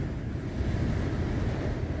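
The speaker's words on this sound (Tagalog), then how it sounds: "Talagang malakas ang tinamaan yung Catanduanes ng malakas na hangin." Strong typhoon wind battering Catanduanes under signal number 5, a steady roaring rush with low rumbling buffeting across the whole stretch, loud and close with no voices.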